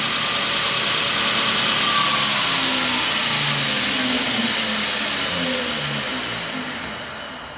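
A 2x72 belt grinder runs at full speed with a loud, continuous whirring hum and belt roar, holding steady before slowly easing off toward the end, with no talk.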